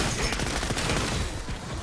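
Rapid automatic gunfire from an MP40 submachine gun in Call of Duty Zombies, a dense, continuous burst of shots running for the whole stretch at steady loudness.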